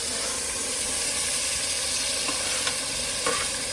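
Tomatoes and green chillies frying in a pan while being stirred, a steady close sizzle with occasional scraping taps, cooked aboard a bus.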